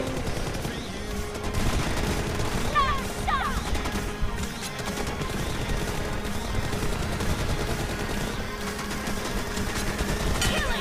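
Rapid bursts of automatic gunfire crack through a BGMI room match, dense and continuous with loud overlapping shots across the whole stretch.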